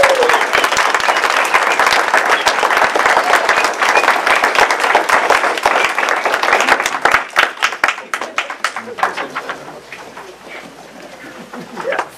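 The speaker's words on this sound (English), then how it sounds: "One more full round of applause for all of the contestants." A large audience at a Toastmasters speech contest claps loudly and steadily for the contestants, dense applause that thins out into scattered individual claps toward the end.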